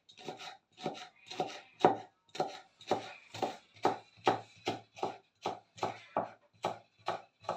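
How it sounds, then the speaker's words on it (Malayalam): A knife chops four large, hot green chillies into rounds on a board, about a dozen crisp, evenly spaced strokes sounding close and steady, with no talk over them. "അപ്പം ഇങ്ങനെ വട്ടത്തിൽ അരിഞ്ഞെടുക്കും."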